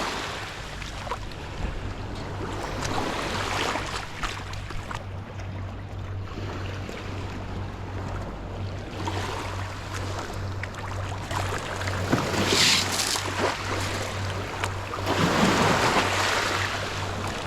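Steady surf on a Lake Michigan beach, continuous washing waves with gusting wind across the microphone, swelling a little louder toward the end, no voices.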